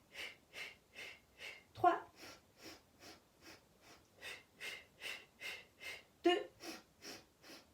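Rhythmic breathing during a Pilates mat exercise with a Magic Circle ring, a steady series of soft, evenly spaced breaths, with an instructor's voice briefly counting over them.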